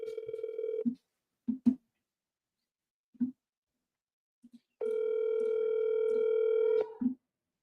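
A telephone dial tone hums steadily while a call is placed to a pay-per-lead house-buying contact, broken by brief handset clicks before the long, even tone returns and then cuts off.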